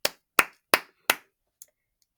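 Four sharp hand claps in a steady rhythm, close and crisp, followed by a fainter fifth clap after a short pause, then silence.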